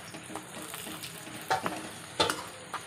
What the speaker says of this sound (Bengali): মা দেখলাম পরোটা ভাজছে